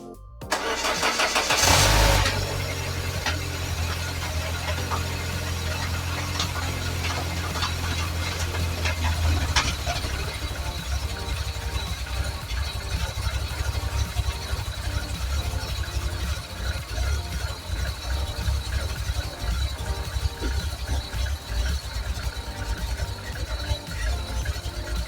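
A Peugeot 205 GTI with a 1.9 engine cranks briefly, catches, then settles into a steady, slightly uneven idle that runs on loud and close for the rest of the clip.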